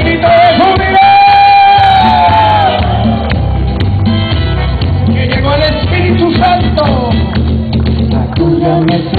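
A crowd at a Catholic worship service shouts and whoops loudly with joy, voices overlapping, over steady background music.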